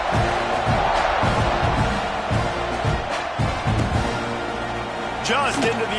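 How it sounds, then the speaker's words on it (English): A crowd buzzes and cheers in a college football video game after a score, a steady stadium roar with rhythmic thumps, running beneath play-by-play commentary. "this crowd is buzzing after that last score"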